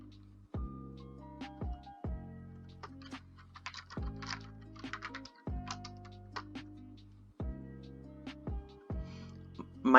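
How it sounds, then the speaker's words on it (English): Loud computer keyboard typing close to the mic, with bursts of rapid clacking keystrokes separated by short pauses and heavy key thumps, under a faint background tone. "My typing is very loud"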